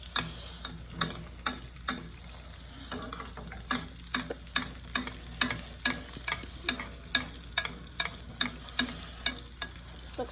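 A wagyu rib eye steak sizzles steadily in a hot pan over lowered heat while it is basted, with sharp spoon clinks against the pan repeating about twice a second, close and fairly quiet, with no talking.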